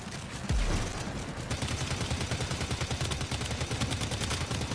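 Fast-firing weapon in the video game Warframe, a rapid steady stream of gunshots after an initial heavier blast, continuous and even in rhythm throughout.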